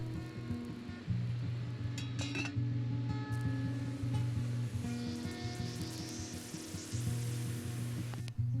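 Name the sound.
water drops sizzling on hot titanium pot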